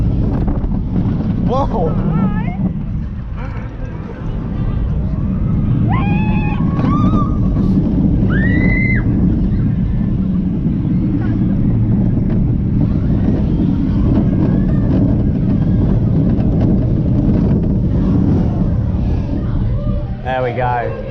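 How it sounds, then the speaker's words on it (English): Vekoma family coaster at Paultons Park racing along at speed, steady loud wind rush buffeting the microphone throughout, with riders' voices and excited shouts over the roar. "Brilliant ride, really good family coaster."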